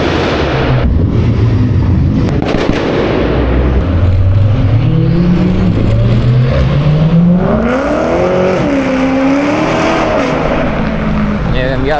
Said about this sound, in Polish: Jadę sobie normalnie i nagle uchwyciłem jakiś przejazd sportowych samochodów